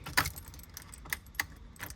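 Car keys for a boosted E36 M3 jangle while being handled, with a few brief metallic clinks and rattles close by against a faint background.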